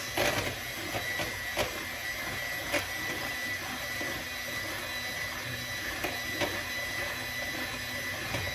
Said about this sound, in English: So we're going to mix it for 30 seconds